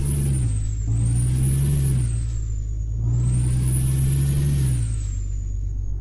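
Kenworth W900B Long truck with trailer in Euro Truck Simulator 2, its engine droning loudly and steadily, rising and falling in pitch twice as it pulls away with a whining high tone, close and alone.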